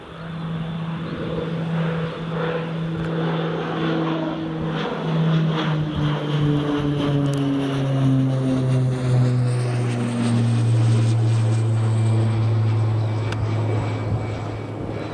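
Propeller aircraft climbing away after take-off from Newcastle Airport, a loud steady engine drone with slowly falling pitch as it recedes, continuous and alone with no voices.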